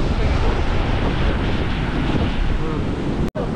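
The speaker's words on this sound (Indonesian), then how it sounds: "Pecah ombak itu." Loud, continuous roar of ocean surf crashing close by at Pangumbahan Beach, Ujung Genteng, Indonesia, with wind buffeting the microphone and a brief dropout near the end.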